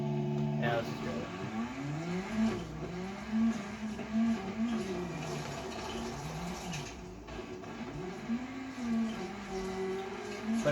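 A rally car in the WRC video game, played with a racing wheel, with the engine revving and shifting through gears in repeated rising and falling sweeps and a steady drone underneath, while someone talks over it.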